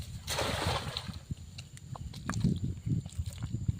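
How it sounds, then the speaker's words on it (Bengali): A boat works a fishing net on a river at night, giving soft water splashes and sloshing with occasional low knocks. The sounds are faint and close-to-mid distance, and no clear talk is heard. "ওই একটা নৌকা যাচ্ছে, জাল বাইয়ে"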